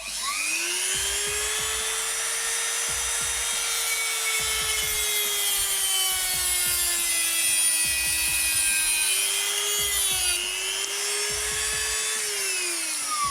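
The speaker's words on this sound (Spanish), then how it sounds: "yo lo primero que hago es cortar hacia abajo y cuando veo que ya va a llegar al límite, digamos, del grosor, empiezo ya a arrastrar" A hand saw cuts a plastic stop for a Scuf-style game controller paddle in steady rhythmic strokes, close and continuous, with a high tonal whine running underneath throughout and no speech.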